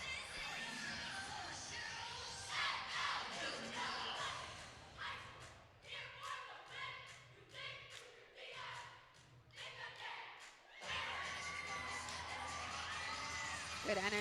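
Crowd cheering at a cheerleading championship, a sustained roar of shouts and whoops with scattered thumps, rising and falling, while a commentator talks over it.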